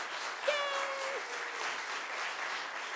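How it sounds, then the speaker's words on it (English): A church worship congregation claps in a sustained, even round of applause, a dense wash of hand claps filling the room from start to finish. "would you please give them a round of applause for all their achievement?"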